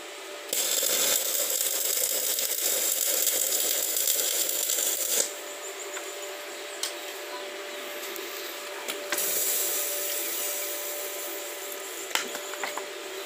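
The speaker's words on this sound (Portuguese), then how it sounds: "Eu vou dar mais uma enchidazinha aqui que eu tô achando muito baixo." An air compressor or pump steadily hisses while inflating a tricycle tyre, a loud continuous rush of air with a few short clicks and a change in pitch partway through.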